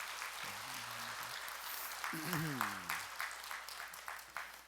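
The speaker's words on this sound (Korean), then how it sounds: "우리 봉사자들에게 우리 박수 쳐야 되겠죠?" Applause from a church congregation thanking volunteers at a Catholic parish Holy Spirit seminar, a steady patter of clapping with a person talking over it in spots.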